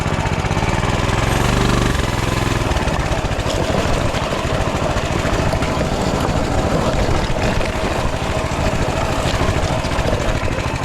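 A Coleman CT200U mini bike engine runs hard over rocky terrain, a loud, constant, buzzing drone with rattling vibration and bumps throughout, close up and continuous.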